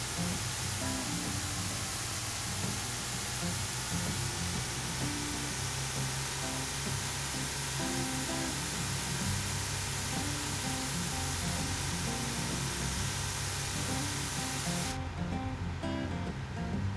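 Crop sprayer spraying a field in the farming game Pure Farming 2018, a steady broadband hiss that runs unbroken and fairly loud for the whole stretch, with no talk over it.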